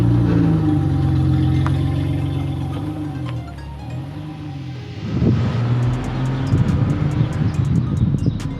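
A BMW E30 with an upgraded sway bar drives along, its mid-pitched engine note steady at first, then rising in a louder, rougher surge of revving and road noise in the second half.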